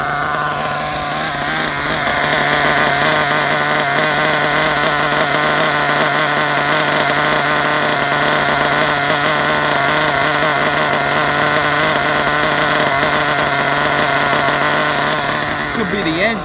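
A Losi 8ight RTR nitro RC truggy engine screams at full throttle, a loud sustained high-pitched buzz with wavering pitch as the revs rise and fall, nearby and continuous.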